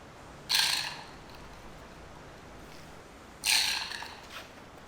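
Small motors drive a three-wheeled robot prototype steered with a Joy-Con controller, giving two short, fairly loud whirring bursts about three seconds apart with quiet in between and no talking.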